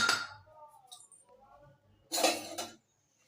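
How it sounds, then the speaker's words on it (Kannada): Metal lid set down on a cooking pot in a home kitchen: a soft clink at the start, then a louder, brief metallic clatter and rattle near the end, with quiet gaps between. "ಹಾಗೆ ಮುಚ್ಚಳ ಮುಚ್ಚಿಬಿಡ್ತೀನಿ ರೀ"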